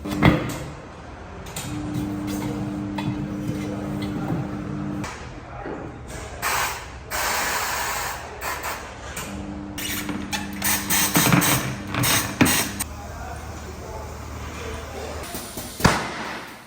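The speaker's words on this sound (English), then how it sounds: "because I really enjoyed the workshop sounds, I'm going to keep them in" Workshop clatter while wheels and tires are fitted to a BMW E36 328i: metallic clanks, bangs and rattles scattered throughout, with a low steady hum in places and a sharp knock near the end.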